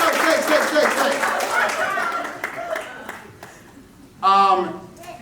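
A crowd breaks into applause near the end, a burst of clapping following a stretch of talking and murmuring.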